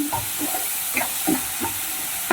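Crushed onion frying in hot tempering oil for spicy misal, a constant loud sizzle with soft intermittent stirring scrapes over a low gas flame.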